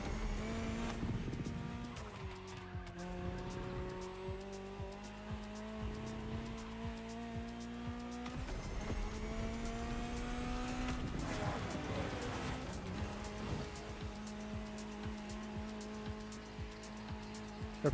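Racing cars in The Crew Motorfest, including a Bugatti Bolide and a Ferrari GTO, roar with shifting engine pitch as revs climb and drop through gear changes, with tire squeal and occasional bursts, steady and prominent.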